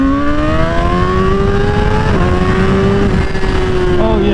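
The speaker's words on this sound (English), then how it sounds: "I'm twisting the throttle all the way." A 1000cc motorcycle engine held at full throttle drones loud and continuous, its pitch wavering slightly, with rushing wind throughout.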